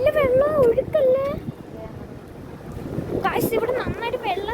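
Loud sea waves surge and wash at a beach, with heavy wind rumble across the microphone and a voice talking over the roar at the start and end.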